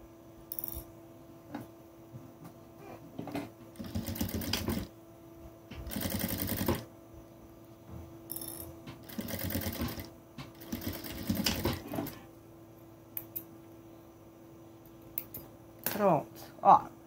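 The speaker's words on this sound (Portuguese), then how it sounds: "agora, a gente passa uma costurinha bem na beiradinha aqui" A sewing machine stitches along the edge of fabric in several separate bursts of rapid mechanical whirring, close by, with quiet pauses between runs and a voice talking at times.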